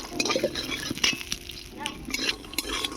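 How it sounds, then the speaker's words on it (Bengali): Bori lentil dumplings frying in a pan, a continuous sizzle broken by frequent scraping stirs and light clinks of a spatula on metal, fairly quiet and close. "বড়িটাকে লাল লাল করে ভেজে নিয়েছি"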